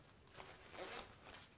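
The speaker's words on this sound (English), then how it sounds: "The jacket that Jonathan was just demonstrating on is a tooth zipper." A tooth zipper on a jacket being zipped, giving a faint, brief rasping pull with a couple of short bursts in a quiet room and no talk.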